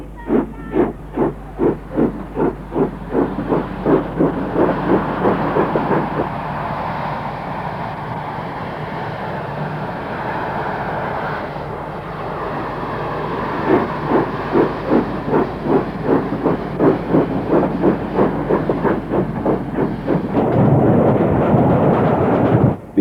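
A steam locomotive of British main-line express type, including a Princess Coronation Class engine, chuffs hard in a rapid, steady rhythm, fades into a long hiss of running, then picks up a loud beat again, with no voices.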